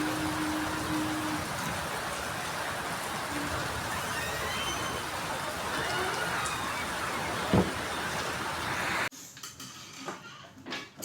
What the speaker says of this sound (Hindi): और ये देखिए अभी भी बारिश हो ही रही है।